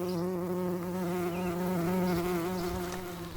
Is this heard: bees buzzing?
yes